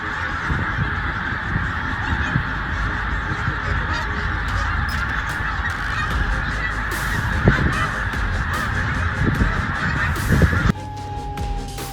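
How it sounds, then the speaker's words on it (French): A huge flock of birds in Arkansas fills the air with dense, continuous honking and cawing calls, loud and layered from many birds at once, with a brief clatter near the end. "La vague d'oiseaux dans l'Arkansas, États-Unis le 9 janvier"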